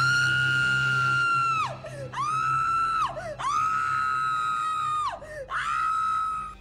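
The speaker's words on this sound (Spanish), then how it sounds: "a la distancia se escuchó el grito desgarrador de una mujer" A woman lets out a harrowing scream, repeated as three or four long, loud wails with brief gaps between them, each trailing off at the end, with no talking.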